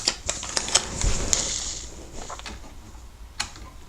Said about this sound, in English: I'm simply going to cut around a piece of the flower here, because I'm going to fussy cut this